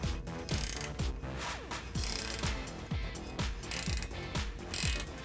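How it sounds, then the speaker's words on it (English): A 9/16-inch ratcheting wrench tightens a nut on the spring perch of a Jeep Wrangler JK during a suspension lift install, giving a steady run of close, loud ratchet clicks in repeated strokes with brief pauses between them. "we're going to take a 9/16 inch ratcheting wrench, or you could use a socket, and we're going to go ahead and tighten this down"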